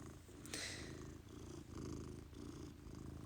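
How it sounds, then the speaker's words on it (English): A cat purrs steadily and close, a low rhythmic rumble that pulses with each breath and carries on without pause. "And then he purrs like crazy."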